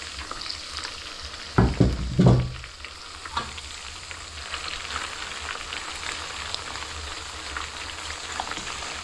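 Hibiscus flowers fry in hot homemade hair oil: a steady, close sizzle with a couple of loud crackling bursts early on as the flowers go in, then an even frying hiss.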